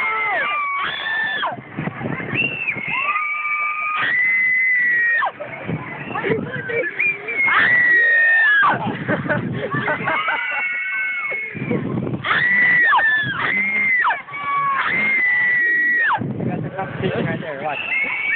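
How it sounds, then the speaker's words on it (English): Riders scream and shriek in loud, sustained bursts on the Dragon Swing, a swinging pirate-ship amusement ride at Knott's Berry Farm, with waves of crowd voices rising and falling as the ride swings. "This is the most intense ride ever. It's gonna make us all scream."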